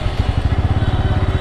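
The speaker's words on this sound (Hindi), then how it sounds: "तो अभी बाइक को तो स्टार्ट भी कर दिया भाई" A motorcycle engine idles steadily after starting, close by, with an even, rapid low chugging throughout.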